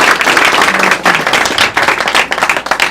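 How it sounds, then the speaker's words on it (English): Loud, close applause from a political gathering in Little Saigon, Orange County, for the local party chairman. Individual hand claps stand out within the crowd's dense clapping, which pulses unevenly throughout. "I first want to ask you to give a big applause to our chairman"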